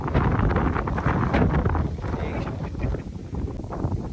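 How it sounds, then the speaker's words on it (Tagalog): Strong wind blows outdoors in a park in Cochrane, Canada, with dark clouds approaching. It buffets the microphone in a steady, close, roaring rush throughout, and voices are faint beneath it. "Ngayon masyado kasing mahangin."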